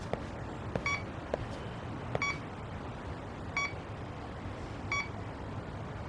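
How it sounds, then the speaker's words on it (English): Evenly spaced electronic detector beeps from the video game Lost Judgment, each a short multi-tone chirp repeating about every second and a half over a low, steady background hum. "let's look for detector beeps."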